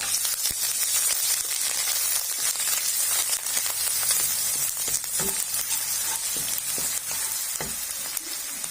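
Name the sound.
ginger garlic paste frying in ghee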